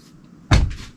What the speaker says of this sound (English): my kingdom for a microwave that when you close the door, it doesn't sound like a hand grenade going off